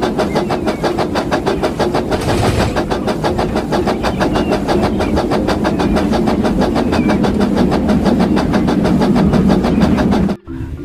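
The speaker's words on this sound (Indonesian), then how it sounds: "Di sini ada kereta Thomas." A Thomas toy train motor runs steadily with a rapid, regular clicking rhythm, close and fairly loud, ending in a brief clunk.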